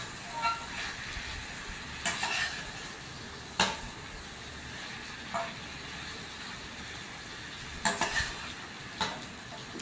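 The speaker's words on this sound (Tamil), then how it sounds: "நல்லா கலந்து விட்டுக்கலாங்க எல்லாத்தையும்." A spatula stirs prawns, broccoli and cheese in a frying pan, making a low steady sizzle broken by several sharp scrapes and clinks against the metal, close up and with no talking.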